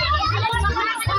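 Children at an outdoor Easter egg hunt make a lively, close-up burst of overlapping kids' voices and play.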